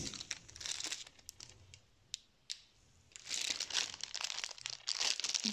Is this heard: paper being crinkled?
yes